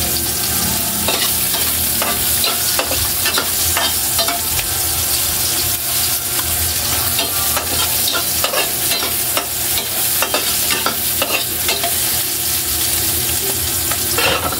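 Onion stir-fried in a stainless pan for chicken tinola, crackling with a dense, steady sizzle broken by repeated sharp spatula scrapes and clicks, close and fairly loud throughout.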